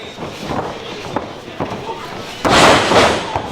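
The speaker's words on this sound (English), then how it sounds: "Shooting star press misses." A wrestler's missed shooting star press ends in a loud, broad impact on the ring mat at a live freestyle championship wrestling match, a heavy crash standing out over crowd noise and commentary after smaller earlier thuds.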